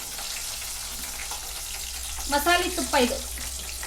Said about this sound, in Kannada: ಈ ಥರ ಸೌಂಡ್ ಬಂತಂದ್ರೆ ಒಳ್ಳೆ ತುಪ್ಪ ರೆಡಿ ಆಗೈತಿ ಅಂತ.